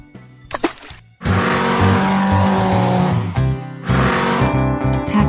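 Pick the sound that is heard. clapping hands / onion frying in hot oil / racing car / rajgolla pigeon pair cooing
racing car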